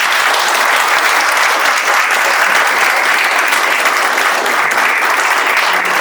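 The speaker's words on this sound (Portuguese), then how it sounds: "Aquela famosa salva de palmas, né?" Dense, steady applause from a lecture audience fills the whole stretch at constant loudness, a continuous wash of many hands clapping with no talk over it.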